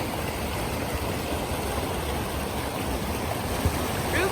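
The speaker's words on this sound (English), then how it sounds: "We're wondering why this little stream looks so soapy." A small stream with soapy-looking, foamy water flows steadily outdoors, making a constant close rushing wash with no voices.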